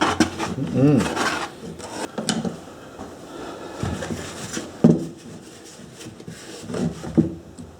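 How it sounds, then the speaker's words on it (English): Scraping built-up crud off a metal part of a post hole digger with a curved-edge tool, a series of close, rasping scrapes and knocks in uneven bursts, with a voice talking over parts of it. "So I'll scrape the worst of this crud off."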